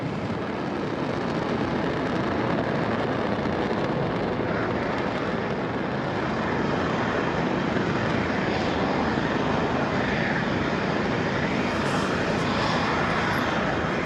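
Falcon 9 rocket lifting off on a cargo resupply launch to the International Space Station, heard as a steady, broad distant roar that holds constant throughout, with no voices.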